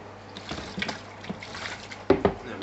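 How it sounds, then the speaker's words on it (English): Water rinsing a pet snapping turtle, a short splashing pour with trickling and a louder burst of splashes near the end, close by and with no talk. "Give me one last rinse over."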